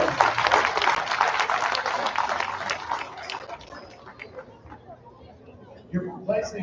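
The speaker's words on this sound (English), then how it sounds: "Let's give those kids a round of applause." An audience at the Hale County Stock Show swine show applauds in a burst of clapping that fades out over several seconds, mixed with crowd chatter and a voice over the arena.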